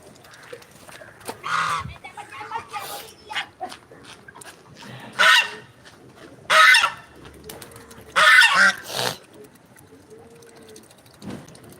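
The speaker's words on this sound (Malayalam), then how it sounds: "അവിടെ താറാവും കരിങ്കോഴും ഫുഡ് കഴിക്കുന്നുണ്ട്" Several loud, separate honking squawks from feeding ducks burst out in short groups amid quieter rustling, with a few soft clucks from black chickens between them.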